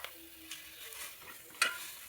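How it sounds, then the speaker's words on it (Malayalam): Chopped tomatoes sautéed in a pan for Kerala-style egg curry, with a faint sizzle and a few soft stirring scrapes, a short sharper clink near the end, all fairly quiet with no talking. "അതൊന്ന് കുറച്ച് നേരം ഒന്ന് വഴറ്റുക"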